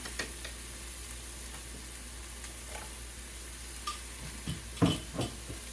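Pork browning in a pan after a touch of oil goes in, giving a steady close sizzle with occasional stirring scrapes and small clicks that grow louder toward the end.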